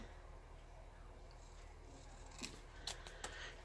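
Scissors trim paper for a planner: a few quiet, crisp snips come close together near the end over a faint room hiss, after a stretch of near silence.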